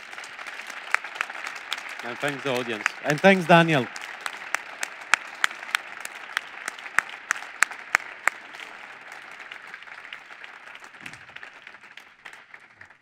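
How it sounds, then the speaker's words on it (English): An audience applauds at the close of a talk on Europe, steady clapping running under a speaker's brief thanks, then thinning into scattered individual claps that fade away. "I guess it's good for a round of applause"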